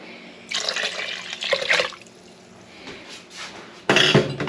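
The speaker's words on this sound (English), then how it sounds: "we're gonna pour in our 6 cups of chicken broth" Chicken broth being poured into an Instant Pot: two bursts of splashing liquid, the first lasting over a second and the second shorter near the end, with quiet kitchen background between and no voices.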